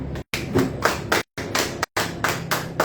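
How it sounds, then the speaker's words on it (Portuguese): Members of a church congregation clap together in short bursts, several rhythmic rounds of close, firm hand claps separated by brief gaps of silence. "Aplauda o Senhor."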